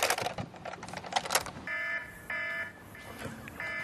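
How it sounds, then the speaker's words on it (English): An electronic fish alarm beeps in repeated steady tones aboard a bass fishing boat on a river during an MLF Redcrest tournament, following a burst of busy clatter and noise. "Is that a fish alarm"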